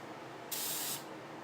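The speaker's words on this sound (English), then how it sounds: "you need to take some hairspray" Hairspray sprayed as a fine mist over painted nail polish, one short steady hiss of about half a second, fairly quiet and close, with no voices.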